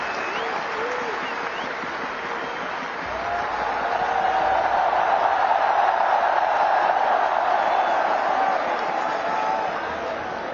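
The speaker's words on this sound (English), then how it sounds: "receive a big round of applause from everyone" Sustained applause from a large gathering honoring the BCCI office bearers at the Indian cricket team's T20 World Cup 2024 celebration, a steady dense wash of clapping that swells and holds throughout.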